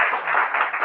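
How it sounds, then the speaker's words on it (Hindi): Brief burst of audience clapping at a Hindi motivational seminar, a dense band of hand claps at an even, moderately loud level for under a second. "ठोको तालियां अपने लिए।"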